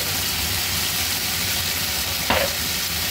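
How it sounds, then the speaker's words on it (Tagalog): Beef tendon sautéing with garlic in a pan gives a loud, continuous sizzle up close, with one brief burst of spattering partway through. "Ilagay na natin yung ating beef tendon. Igisa natin sa bawang."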